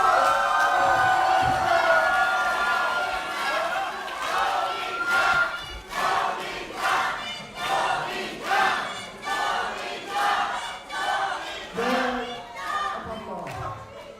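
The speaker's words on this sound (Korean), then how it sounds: "뜨거운 박수!" A large crowd at a party leadership rally cheers and shouts loudly, roaring in repeated swelling waves, with a few voices standing out above the din.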